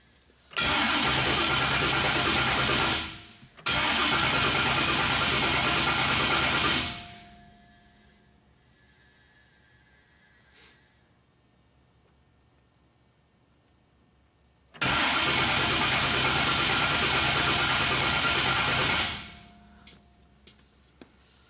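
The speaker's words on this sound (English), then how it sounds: "So we're gonna crank it over for a few seconds, stop, crank it over for a few seconds." An LS swap engine cranks over on its starter in two loud bursts of a few seconds each, a brief pause between them, then a long quiet gap before a third burst of cranking.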